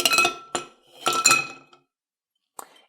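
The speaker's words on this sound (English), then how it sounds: "And we'll add in our ice." Ice cubes dropped into a cocktail mixing glass holding a vegetable-based drink: several bright, close glassy clinks and rattles in quick bursts, then a pause and one last short clink.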